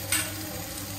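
Chicken pieces go into a pan of spiced masala already cooked down until the oil separates, raising a close, even sizzle and hiss with a brief sharper burst near the start and no talking.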